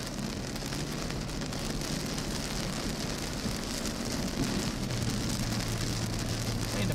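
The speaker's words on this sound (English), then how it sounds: "all I hear is rain" Heavy rain pounds steadily on a storm-chasing car during a Texas tornado chase, a dense, constant roar of drops filling the whole clip with no voices and a low rumble underneath.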